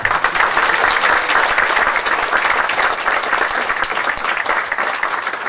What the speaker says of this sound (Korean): 큰 박수 많이 주시죠.